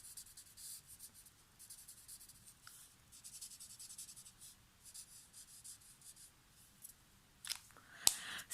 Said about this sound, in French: je vais revenir avec mon feutre clair pour mélanger les couleurs et ainsi atténuer cette démarcation